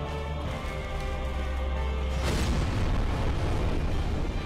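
Explosions during the Stray Demon boss fight in Dark Souls Remastered: a loud, sudden broadband burst midway that rolls into a sustained rumbling roar, following a lower droning build-up.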